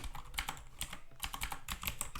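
Computer keyboard typing while entering a project description in a Java microservices setup, with quick uneven bursts of keystrokes separated by short pauses, close and moderately loud with no talking.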